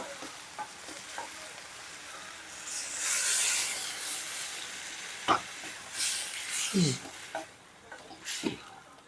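A spoon scrapes and stirs through thick eggplant and raw mango curry in a pan over a constant low sizzle, with a few sharp clanks against the pan.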